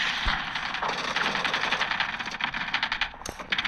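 Decoy grenade in Warzone Mobile throwing out fake gunfire, rapid rattling bursts of automatic shots that crackle unevenly, loud and close, with a few sharper pops near the end.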